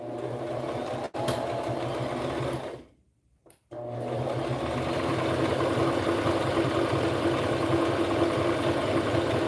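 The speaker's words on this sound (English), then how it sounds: "Make sure you back stitch." Loud and close, a sewing machine back stitches preemie shorts, running steadily, pausing briefly for a second or so, then resuming in a continuous run.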